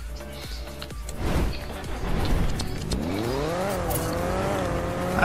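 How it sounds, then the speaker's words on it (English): A car in a video game accelerates and revs, its engine pitch climbing steadily, with tire squeal and skidding along the way, all loud and continuous with no talk. "We are also fixing the sound effects of the car"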